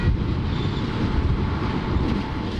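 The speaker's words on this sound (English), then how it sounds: "Arriving at Otira with 2 additional locomotives added to the train at Arthur's Pass for the run through the Otira Tunnel." Transalpine passenger train with two extra locomotives added at Arthur's Pass arriving at Otira station on New Zealand's Midland Line, a steady, loud low rumble of diesel engines and rolling wheels continuing throughout without pause.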